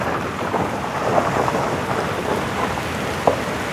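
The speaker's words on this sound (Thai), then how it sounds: "ฝนตกหนักแล้วพี่น้องเนาะ" Heavy rain pours steadily as thunder rumbles, a continuous dense hiss with a few sharper cracks and low rolls, no voices present.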